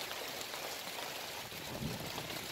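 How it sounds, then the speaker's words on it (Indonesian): Steady rain over an avocado orchard in Lampung, a constant broadband hiss of falling water heard from under a hut roof, with faint low rumbles and no voices. "Ini lagi berteduh di gubuk. Hujan, bos."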